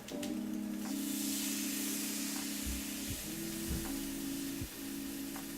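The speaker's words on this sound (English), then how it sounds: "duck breast, skin side down. You should hear a nice sizzle." Duck breast laid skin side down in a hot pan sears with a loud, continuous sizzle and hiss, steady throughout with a faint underlying hum and a few soft knocks, no voices.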